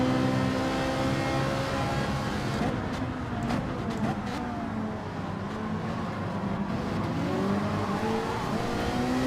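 Ferrari race car in Gran Turismo 7 racing from the grid, a steady loud engine drone with shifting revs and pitch throughout, other cars close by, brief bursts of higher noise midway.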